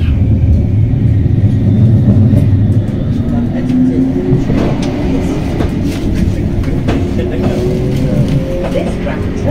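A West Midlands Metro tram pulls away from a stop, its loud, steady rumble building with a rising whine as it gathers speed, heard from on board.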